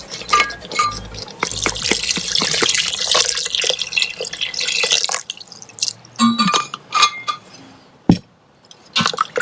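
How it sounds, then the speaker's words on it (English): Water poured into a pot of cooked lentils while making a sour lentil dish outdoors, a steady splashing pour for about five seconds followed by a few short drips and clinks. "I'll also go ahead and add some water to this one."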